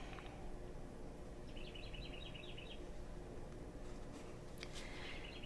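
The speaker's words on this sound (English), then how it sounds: "the birds are out and chirping." Birds chirp outdoors in short, quick trills and scattered tweets, faint and somewhat distant over a steady hiss of background noise, with no talk.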